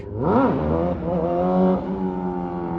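A street-racing car revs loudly nearby on a town street in Idaho Falls, its engine pitch climbing and falling through gear changes as it accelerates past, a strong harmonic roar with no talk over it.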